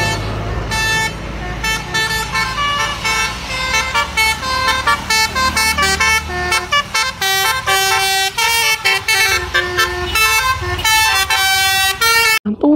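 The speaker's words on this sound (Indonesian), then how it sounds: "kali ini ada bus Tunggal Jaya Jupiter teman-teman" A Tunggal Jaya Jupiter bus passes close by, its loud, sustained multi-tone musical horn playing a long melodic tune over a low engine rumble.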